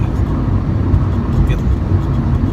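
A Fiat 500e electric car merging onto a highway at around 55 to 60 mph, producing a steady, loud wash of road and wind noise inside the cabin with no pauses.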